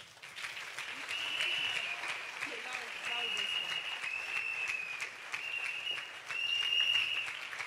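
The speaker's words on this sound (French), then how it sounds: "Acclame très fort pour le Seigneur." Church congregation applauding and cheering for the Lord during a worship service, a steady wash of clapping with sustained high-pitched shouts or ululation over it, voices mixed in throughout.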